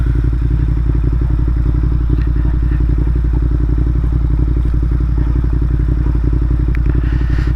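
A short-wheelbase Ducati Monster 1200S motorcycle is ridden over a rough, cratered driveway, its engine thrumming steadily and loudly alongside clattering bumps and thuds throughout.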